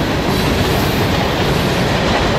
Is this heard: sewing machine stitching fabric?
no